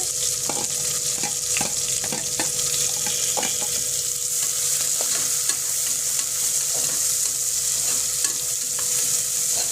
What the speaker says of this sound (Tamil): போட்டு நல்லா வதங்கட்டும்